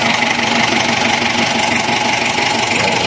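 A Toyota Land Cruiser engine idles steadily and loudly up close, a continuous rumbling drone with a slight rhythmic knock, unbroken for the whole stretch.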